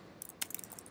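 Soft, quiet keystrokes tap on a computer keyboard in an uneven run of about a dozen clicks, close and alone.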